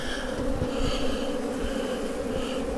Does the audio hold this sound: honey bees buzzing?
yes